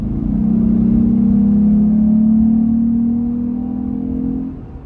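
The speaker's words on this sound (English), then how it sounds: "What you're hearing there is all cold air intake." A Jeep Gladiator fitted with a cold air intake and stock exhaust revs nearby, holding a steady, rising engine drone for several seconds before easing off at the end, with no talking.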